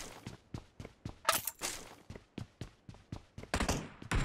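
Gunfire in the mobile game PUBG Mobile: a string of muffled, evenly spaced shots with a few louder, sharper bursts, all fairly faint and without talk.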